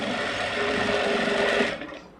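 A sewing machine runs steadily while stitching along the edge of a blouse, a continuous close whirr for about a second and a half that slows and fades out near the end, with no voices.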